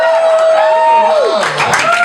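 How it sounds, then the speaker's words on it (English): Students in a live event audience break into a loud, full cheer that swells after a brief voice and fills the room for about a second before fading. "Can I get a cheer from the students?"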